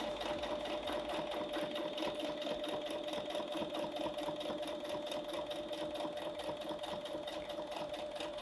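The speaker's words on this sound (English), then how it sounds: "And I'm going to top stitch about 1/8 of an inch from the edge." Sewing machine top stitching along the edge of a fabric eye mask, a steady, close mechanical whir with fast, even needle clatter running continuously and alone without interruption.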